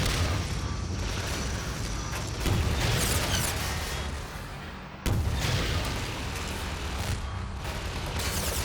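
Rapid gunfire hits a gunship in Half-Life 2: Lost Coast, a loud, dense, continuous barrage of booming shots with a brief lull before the firing resumes.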